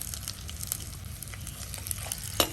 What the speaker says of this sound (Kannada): ಸ್ವಲ್ಪ ರೋಸ್ಟ್ ಮಾಡಿದ್ರೆ ಇದನ್ನು ಜಾಸ್ತಿ ಫ್ರೈ ಮಾಡಲಿಕ್ಕೆ ಹೋಗಬೇಡಿ